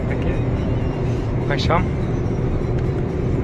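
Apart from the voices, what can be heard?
45-metre mobile crane truck driving on the road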